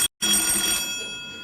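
A telephone bell rings in a short burst after a brief gap, bright and close, then trails off into a lingering ring in an indoor scene from a department-store sitcom, with no talking.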